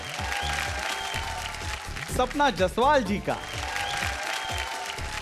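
A studio audience on Big Memsaab Season 7 applauds to welcome the quarterfinal contestants, the clapping running under background music while a host speaks in the middle.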